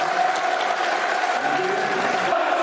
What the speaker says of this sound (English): Good applause for the man.